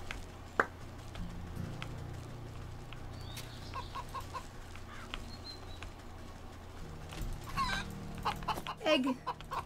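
Chickens in the video game Wytchwood cluck in scattered bursts over a low ambient hum, growing busier and louder toward the end.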